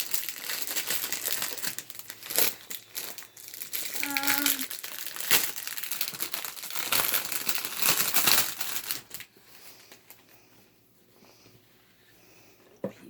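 Plastic packaging crinkles and crackles loudly up close while a YuXin HuangLong 13x13 puzzle cube is unboxed, then the handling fades to near quiet.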